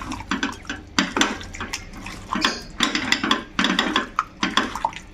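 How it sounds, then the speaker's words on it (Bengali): Chicken is mixed by hand with coriander, ginger and green chilli paste, making repeated wet squelching and slapping bursts with light clinks against the bowl in an uneven rhythm, close and fairly loud. "এরপরে আবারও সব একসঙ্গে ভালো করে মিশিয়ে নেব"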